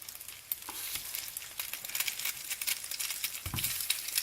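Slices of pain perdu (French toast) frying in a pan, giving a steady close sizzle with soft pops and scrapes throughout.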